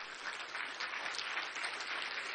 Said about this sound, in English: Let us continue clapping, please, for the President of Kenya